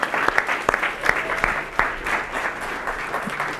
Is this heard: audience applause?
yes